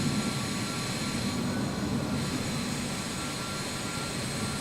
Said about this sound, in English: Oh, I can hear the thrust on his engines.